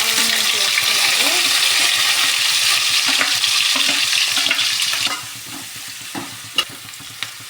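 Onions frying in oil with green chillies, cumin and mustard seeds: a loud continuous sizzle with scraping stirs, easing to a quieter crackle after about five seconds, with a few sharp clinks of the utensil.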